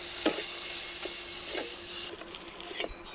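Banana peel paste frying in a pan with turmeric, a steady sizzle broken by several soft scraping stirs, close and fairly loud, with the hiss dropping away near the end.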